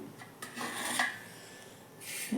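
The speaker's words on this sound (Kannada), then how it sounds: "ಇದು ಅಕ್ಕಿ ತೊಳ್ತೀನಿ ಈಗ ಅನ್ನಕ್ಕಿಟ್ಬಿಡ್ತೀನಿ" Rice is swished and rubbed by hand inside a metal pot, giving short close scraping, rasping strokes with brief gritty bursts and no talking.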